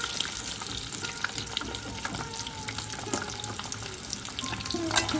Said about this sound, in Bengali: ডিম খুব কড়া করে ভাজার দরকার নেই।